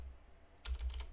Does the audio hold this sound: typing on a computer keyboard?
yes